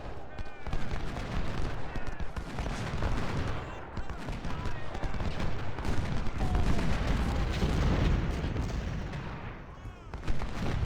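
Cannons fire canister shot in the Ultimate General: Civil War game, with booming artillery blasts layered over crackling musket volleys and battle noise throughout.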